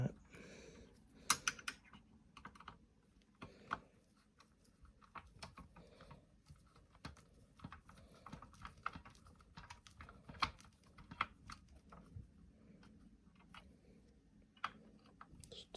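Small screws being driven and tightened by hand into a 1:8 scale Back to the Future DeLorean model kit, heard as a string of light, close, irregular clicks and ticks with quiet handling noise between them.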